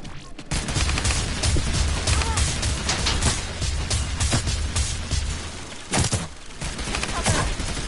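LMG machine gun fire in the video game Realm Royale, a dense continuous loud barrage of rapid shots with crashing impacts and a brief lull near the end.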